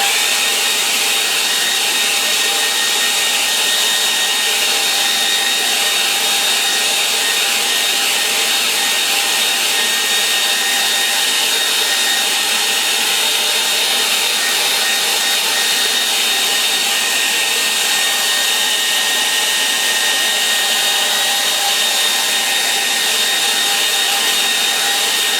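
Hair dryer blowing on a watercolour snow landscape painting, a loud continuous whooshing hum held at an even level for the whole stretch, with no voices.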